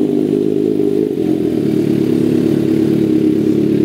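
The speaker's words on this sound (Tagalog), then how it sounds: "So ito, soundcheck muna natin guys yung existing natin na exhaust, Austin Racing copy." A 2024 Kawasaki ZX6R sport bike idling and revving through an Austin Racing copy exhaust, a loud, close, steady engine drone with a brief dip partway through and no talk over it.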